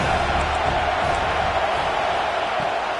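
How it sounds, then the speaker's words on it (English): A college football stadium crowd at an Alabama game roars on a third down, a dense, loud and continuous wash of cheering and shouting that fills the whole stretch, with no clear voices standing out. "This crowd bringing the energy and noise early."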